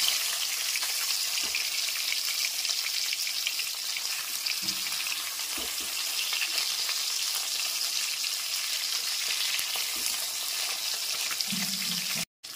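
Steady, close sizzling of salt-and-turmeric-coated pabda fish frying in hot mustard oil, with occasional soft pops and light clinks over a constant hiss.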